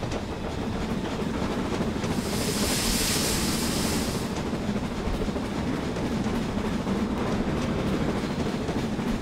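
Steam locomotive rolling along in Train Simulator 2016 on the Western Lines of Scotland, a steady continuous rumble with rail noise, joined midway by a brief hissing burst of steam.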